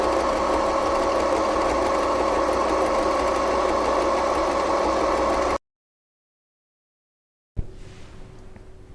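An FHSM-519 sewing machine runs loud and steady with a dense mechanical whir for several seconds, cuts off into silence, then starts up again at a different speed.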